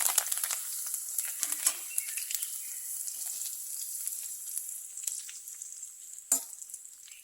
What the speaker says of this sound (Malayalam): നമുക്ക് കുറച്ച് കറിവേപ്പിലയും കൂടി ഒന്ന് ഫ്രൈ ചെയ്തെടുക്കാം